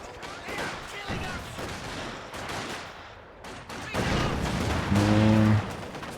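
Gunfire in a real-time strategy video game battle rattles in bursts beneath a caster's excited commentary, with a short tonal sound effect near the end.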